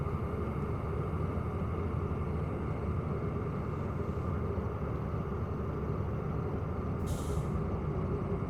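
Air brakes on a DM3 locomotive in the Derail Valley train simulator release with a steady, even hiss that runs unbroken throughout, no speech over it.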